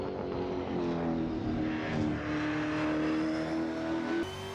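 V8 Supercar racing engine in a driving game pulls hard out of the final corner onto the Hungaroring start-finish straight, rising pitch through gear changes, loud and continuous, no speech.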